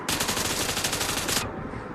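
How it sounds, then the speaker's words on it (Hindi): Rapid automatic gunfire from behind the player in a shooter video game, a loud dense burst of shots lasting over a second before cutting off abruptly. "पीछे से गोलियां पड़ रही हैं।"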